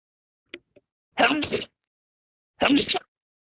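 Two people sneeze in turn during an online race broadcast, each sneeze a sharp, loud burst close to an open microphone, about a second and a half apart, with quiet in between.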